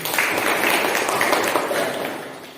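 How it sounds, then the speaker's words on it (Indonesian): Students in a classroom clap together for a few seconds, a close, fairly loud burst of applause that fades out at the end, with no talk over it. "Ya, tepuk tangan dulu sini."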